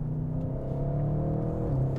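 Car engine at half throttle heard from inside the cabin, a steady low drone with a slight rise in pitch, continuous and close.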